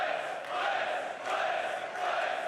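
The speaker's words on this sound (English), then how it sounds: "I hope you can hear me over this wonderful crowd" A large arena crowd roars and cheers at a CS2 major semi-final in Austin, a dense sustained wash of voices swelling in waves without a break.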